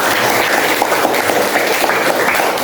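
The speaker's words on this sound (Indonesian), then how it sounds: "tepuk tangan lagi." Classroom applause from a high school religious education class, a steady dense patter of many hands clapping together throughout, loud and close with no talk over it.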